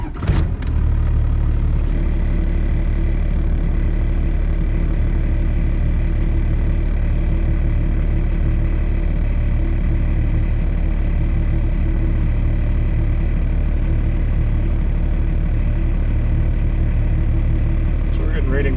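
A first-generation Cummins diesel truck engine with a Diamond Eye exhaust runs at a steady idle nearby, a constant low rumble and hum that holds unchanged for the whole stretch.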